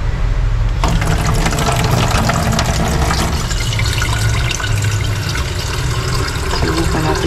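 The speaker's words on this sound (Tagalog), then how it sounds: "subukan natin siyang lagyan ng tubig" Water streams steadily into a Maimeite electric kettle, about a liter poured in one continuous, loud, close gush that starts abruptly and runs without talking.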